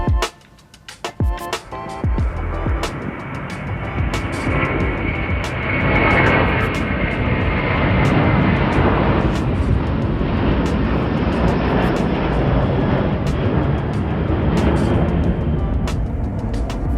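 An airplane departs at Ulaanbaatar Airport in Mongolia: after a few sharp knocks, a loud, sustained roar of aircraft engines builds and holds steady, heard from nearby.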